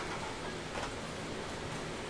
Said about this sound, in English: I think it's raining again.